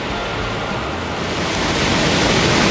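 A waterfall pours down natural rock steps in a continuous hissing rush that grows slightly louder toward the end. It is broad and steady with some wind, and no voices.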